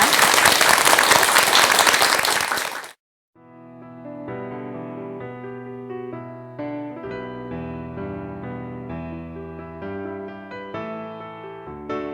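Applause from an audience at a Buddhist temple mountain concert fills the first three seconds loudly, then stops abruptly and gives way to music.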